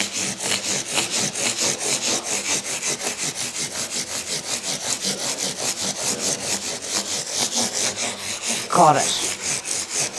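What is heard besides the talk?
sanding guitar frets with 240 and 400 grit sandpaper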